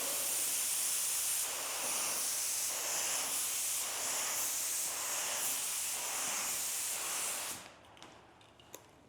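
A paint spray gun hisses steadily from about six inches off a panel, a loud continuous airy spray with slight pulsing passes that cuts off abruptly near the end, leaving quiet clicks.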